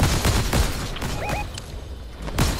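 Gunshots crack in the Fortnite video game, a quick cluster of sharp reports at the start, then scattered single shots and a final loud blast.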